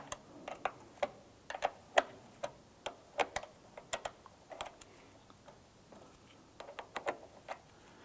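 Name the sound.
8mm wrench loosening battery ground terminal nut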